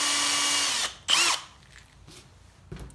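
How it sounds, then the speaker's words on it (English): A power drill bores a hole through the center of a plastic bottle for a brake-bleeding setup: a loud, steady motor whine for almost a second, then a short burst of cutting, followed by quieter clatter and a brief final rattle. "I'm gonna drill me a hole in the center of my bottle"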